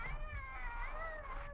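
A cat yowls at a bushmaster snake in a radio drama, a continuous loud, wavering caterwaul that rises and falls, close and alone with no talk.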